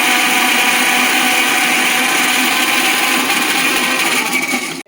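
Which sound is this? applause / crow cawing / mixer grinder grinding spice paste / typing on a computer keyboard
mixer grinder grinding spice paste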